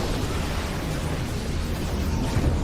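Disruptor shot explosion in a StarCraft 2 match, a dense, loud rumbling blast with a continuous roar filling the moment.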